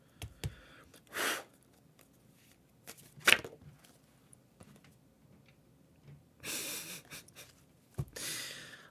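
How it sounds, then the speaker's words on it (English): Tarot cards being shuffled by hand, several short papery riffling bursts spread out with pauses between them, close and fairly soft, no talking. "I don't like messy shuffling."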